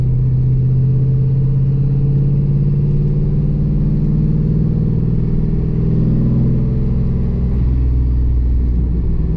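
Steady low rumble of a car engine and exhaust while driving, a continuous drone that rises and dips slightly, close and loud, with no talking.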